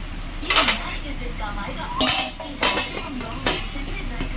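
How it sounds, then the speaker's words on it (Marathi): Metal clatter of a lid set onto a cooking pot in a home kitchen, with several sharp clanks and clinks spread over a few seconds, fairly close and alone without talk. "आता आपण याच्यावर झाकण लावून घेऊया"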